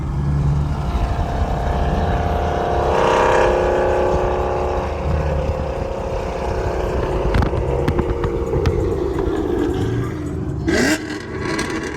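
A deep catless Camaro SS V8 exhaust roars steadily nearby as the car cruises at night, with a brief rise and a few sharp scraping clicks toward the end.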